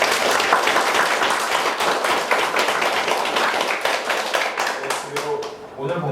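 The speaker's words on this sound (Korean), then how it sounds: "박수." A room full of people at a lecture clapping, dense and steady for several seconds, then thinning out toward the end.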